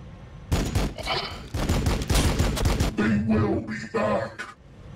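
Rapid gunfire volleys in the strategy game Warhammer 40,000: Battlesector, dense overlapping shots and bursts rattling almost without pause, with a few quieter gaps between volleys.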